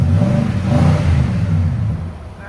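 Nissan Titan 5.6L V8 with an aftermarket exhaust revving up from idle, a loud, deep, steady engine roar that holds for about two seconds and then eases off slightly near the end.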